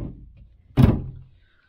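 A storage drawer beneath a travel trailer bed slides out and lands with a single solid thunk, close and loud, after a short rumble and without speech.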